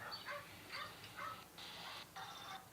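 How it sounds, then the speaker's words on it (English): Hunting dogs bark in repeated bursts on a played-back recording, sounding distant and somewhat muffled against steady background hiss. "This is the hunting dogs beside me that I listen to all day and all night."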